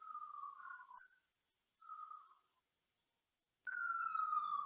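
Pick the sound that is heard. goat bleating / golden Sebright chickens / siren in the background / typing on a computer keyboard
siren in the background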